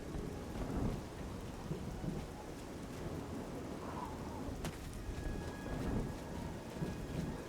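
Steady rain with rolling thunder in the video game Oblivion, a continuous hiss of downpour under a low rumble, with one sharp thunder crack partway through; no voices.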